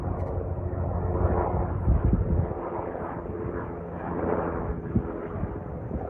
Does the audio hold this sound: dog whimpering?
no